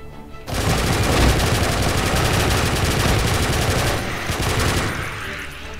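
Rapid gunfire from a weapon in Doom, Sigil episode, running in GZDoom: loud sustained bursts of shots that rattle on for several seconds before cutting off.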